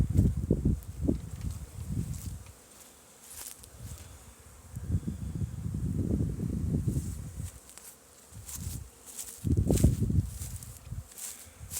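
Honeybees buzz around a water feeder at an apiary in the new year, their droning hum rising and fading in several close passes as individual bees fly near, with quieter stretches between.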